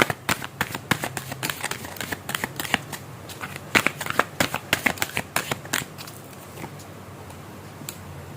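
Tarot cards are shuffled close up in a fast, even run of crisp riffling flicks that slows and thins out toward the end, with no voices.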